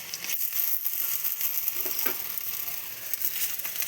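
Spices, ginger paste, chili and tomato fry in a pan for ghugni, a faint continuous sizzling hiss with light crackles and a few soft stirring taps, close and without talk.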